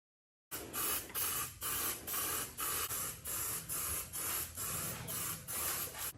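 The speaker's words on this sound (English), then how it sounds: "spray that primer" A spray can of primer hisses in short, repeated bursts onto a damaged widebody Mustang, about a dozen steady sprays with brief pauses between, close and fairly quiet.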